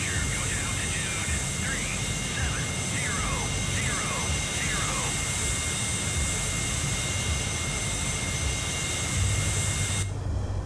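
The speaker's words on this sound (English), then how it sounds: "First B-52 is airborne" B-52 bomber jet engines roaring steadily during takeoff in the naval warfare game Sea Power, a constant loud drone overlaid with rising and falling electronic chirps and occasional radio voices.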